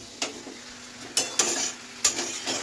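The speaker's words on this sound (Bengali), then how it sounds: "এদিকে শাকটা একবার নাড়বো" Greens cooked with garlic, onion and salt sizzle in a pan while a spoon scrapes through them in a few quick strokes, each stir standing out over the soft, steady frying.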